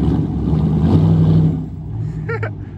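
A car engine revs hard and close, a loud rising growl that fades back down, followed by a brief high-pitched voice.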